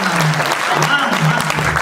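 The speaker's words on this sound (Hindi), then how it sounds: "अच्छा कवि है, एक बार अच्छी सी तालियां बजाइए।" Audience applause for a poet at a Hindi poetry gathering in Ghaziabad, a steady dense wash of clapping throughout with a voice or tone sustained underneath.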